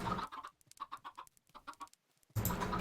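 Chickens in a Minecraft modpack, Agrarian Skies, cluck in quick choppy bursts, several close fowl calls tumbling over each other, briefly pausing before a louder burst of clucking returns; no talking.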